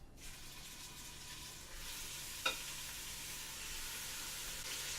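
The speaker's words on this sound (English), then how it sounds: "I'm adding my onion and garlic now." Steady sizzling hiss of onion and garlic frying in a hot pan, with a brief clink partway through.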